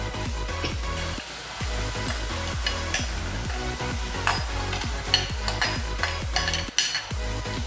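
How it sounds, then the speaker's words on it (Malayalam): Clams and grated coconut being stirred and sautéed in a pan for Kerala kakka thoran, with a steady close sizzle and repeated rhythmic scraping strokes of the spoon, no talking. "നമുക്ക് നന്നായിട്ട് മിക്സ് ചെയ്ത് കൊടുക്കാം."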